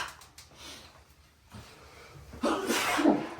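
A single sneeze bursts out near the end after a stretch of quiet room noise and faint breathing, fairly close and loud.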